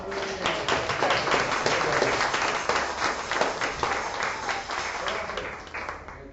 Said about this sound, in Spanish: Lo recibimos con mucho cariño y un aplauso, hermano.